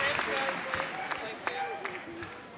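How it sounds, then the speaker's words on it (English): Crowd applause at the Crufts 2019 dog show, heard during the Day 2 opening agility event, sounds steady and moderately loud beneath continuous commentary from a man. "a big round of applause from Dave DeVille"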